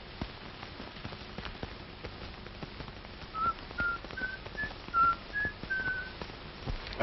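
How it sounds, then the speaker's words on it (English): Someone whistles a short, bouncy melody of clear, separate notes, the tune of Yankee Doodle, fairly faint against a soft background patter. "Listen, somebody's whistling Yankee Doodle."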